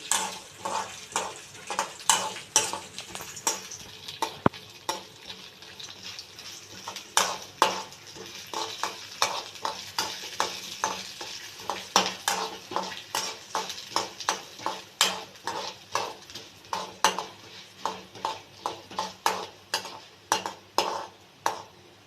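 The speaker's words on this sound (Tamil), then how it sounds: "இந்த மாதிரி கொஞ்சம் நல்லா வதங்கினேன்" Chutney ingredients are sautéed over high heat in a pan, with a low sizzle under a steady run of sharp scraping and clinking strokes from a spatula against the metal, repeated close and regular throughout.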